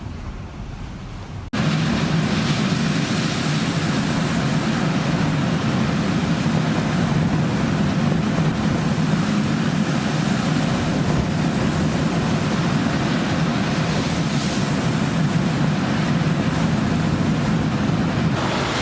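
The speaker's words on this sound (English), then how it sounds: "The waves passed through the entire deck of the ship." Storm waves surge continuously over the deck of a loaded cargo ship in the Bay of Biscay, a loud, unbroken roar of rushing water and wind with no pauses.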